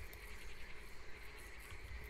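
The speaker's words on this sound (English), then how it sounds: "Oh, it's frogs." Frogs croak in a dense, continuous chorus in the horror video game Loveland demo, a steady rasping texture at moderate level with no voices.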